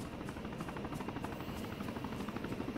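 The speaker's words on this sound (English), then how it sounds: "Let's get on the helicopter." Steady rotor thump of a helicopter in ARMA 3, a dense continuous drone with rhythmic chopping, no voices.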